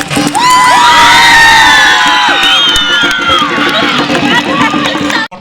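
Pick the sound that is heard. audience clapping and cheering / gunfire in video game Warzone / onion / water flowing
audience clapping and cheering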